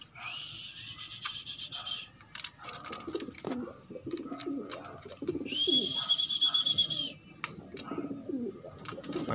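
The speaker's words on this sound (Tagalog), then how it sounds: "Ito nga kalapatid, siya na lang mag-isa kalapatids." Pigeons coo in low, rolling calls close by at a backyard loft on a rainy afternoon, alongside softer chirps and fluttering, with someone talking at times between the calls.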